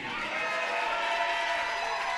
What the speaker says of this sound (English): gets a loud cheer from the crowd